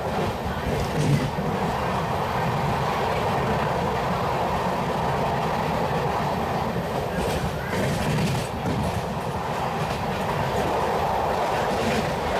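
A passenger train rumbles steadily after pulling out of Kotha Valasa station, its dense, continuous roar heard from inside a carriage with faint rhythmic wheel clatter.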